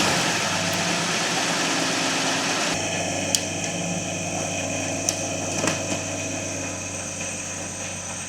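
A Jeep Wrangler engine runs steadily after a jump start, a constant close idle drone with a few sharp clicks and clanks over it.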